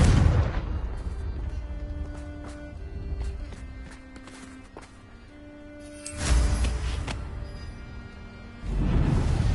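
A Confringo fire spell from Hogwarts Legacy blasts loudly twice, a sharp broadband burst around six seconds and another near the end, over quiet game ambience with faint tonal music.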